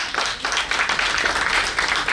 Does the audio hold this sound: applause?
yes